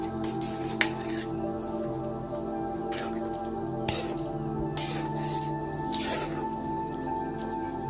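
Soaked basmati rice is stirred in a pot for white pulao, wet squelching and scraping bursts at irregular intervals over a low, steady hum, with no talking.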